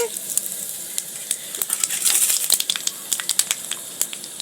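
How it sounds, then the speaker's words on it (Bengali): Black cumin seeds spit and sizzle loudly in hot oil left over from frying fish, a dense crackle with sharp pops scattered throughout, close and continuous. "এই মাছের তেলেই এবারে আমি ফোড়নে দিচ্ছি এইখানে রয়েছে কালো জিরে"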